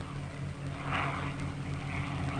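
A propeller plane with a damaged tail flies past, its engine a steady, droning hum with a brief swell in loudness partway through.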